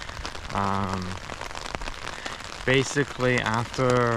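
Rain falls on a rainy morning on a trip near Darien Lake State Park, a soft, steady patter in the background while a person talks over it in short bursts.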